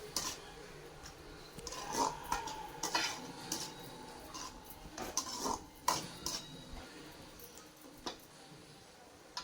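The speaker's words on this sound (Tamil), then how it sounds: "கரண்டிலே இப்படி நல்லா அமுத்தி கொஞ்சம் நல்லா நசுக்கி நல்லா வதக்கிடலாம்." A ladle presses and mashes tomatoes in a pan of sautéing Sankara fish curry, giving scattered soft scrapes and a few sharper metallic clinks against the vessel, close by and moderately quiet over a low sizzle.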